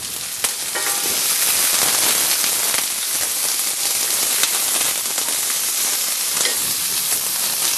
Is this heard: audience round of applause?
no